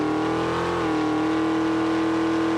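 A race car engine in a driving game is held at full throttle, a loud steady mechanical drone with a brief pitch dip partway through that suggests a gear change, then the constant roar continues.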